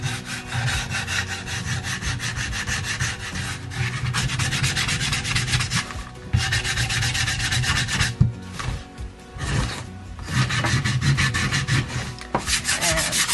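Steady back-and-forth rasping of sandpaper roughing the edges of a painted wooden DIY farmhouse decor piece, close and continuous with a few short pauses.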